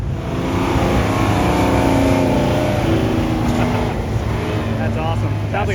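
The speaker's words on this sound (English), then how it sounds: "Sounds like a two-stroke." A two-stroke engine revs hard and close at a car show, a loud buzzing roar that rises and falls, with people's voices faintly mixed in.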